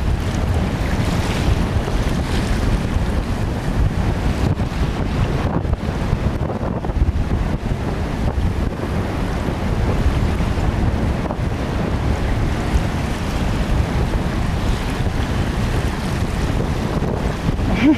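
Strong wind blows steadily at sea over Minerva Reef, a constant loud roar of wind buffeting the microphone mixed with breaking surf and churning water, with no pause across the whole stretch.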